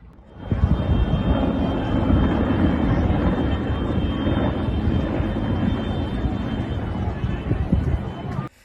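A loud, steady rotor roar of a firefighting helicopter overhead dropping water on a wildfire in Turkey, constant throughout after a quick onset, with faint voices underneath.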